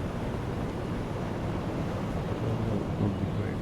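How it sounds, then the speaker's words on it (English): Sea waves and wind around a Type VIIC U-boat in the UBOAT game, a steady broadband rushing wash with no distinct breaks, moderately loud and continuous, with no talking. "Would be waves."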